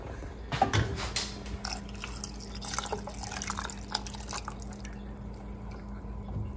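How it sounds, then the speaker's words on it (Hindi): About two cups of water pour into a heated cooking pan for enchiladas, a steady trickle with faint drips and splashes, fairly quiet and without speech. "तो ये तकरीबन मैं 2 कप पानी इसमें और डाल रही हूँ।"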